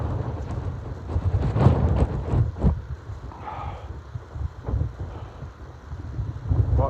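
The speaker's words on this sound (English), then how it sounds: "we got a lot of wind and gusts of wind" Strong wind on the Bigelow mountains buffets and roars across the microphone in uneven gusts, with a low rumbling rush that swells and fades.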